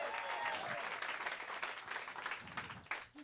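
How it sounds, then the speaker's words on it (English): A small lounge audience applauds a band member's birthday, a dense burst of close clapping that holds steady, then thins and trails off near the end. "Give her a round of applause."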